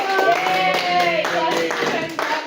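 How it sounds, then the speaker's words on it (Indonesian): A teacher leads children in a patterned classroom clap during a micro-teaching lesson, rhythmic bursts of hand claps in time, with voices chanting or talking over them, close and loud. "kita harus tepuk dulu"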